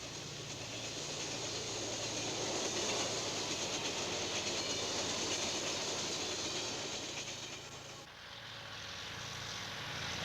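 The Rock Island Twin Star Rocket, a streamliner passenger train between the Twin Cities and Kansas City, gives a faint, steady rolling rumble of rail travel that dips briefly near the end and then resumes.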